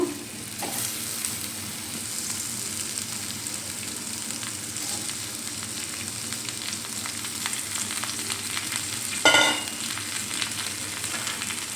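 Mashed boiled potato fries with browned onion in a pan, giving a steady close sizzle under continuous stirring scrapes and one sharper clatter of the spoon, with no talking.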